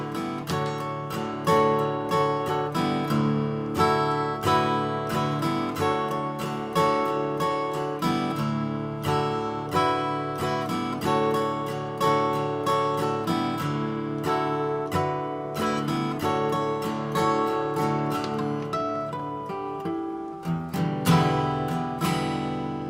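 Acoustic guitar playing a song, steady strummed and picked chords ringing with a regular rhythm, close and clear with no voice over it.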